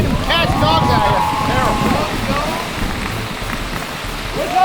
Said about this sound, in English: It's raining cats and dogs out here.